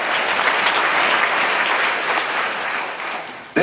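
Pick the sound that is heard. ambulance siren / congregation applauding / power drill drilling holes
congregation applauding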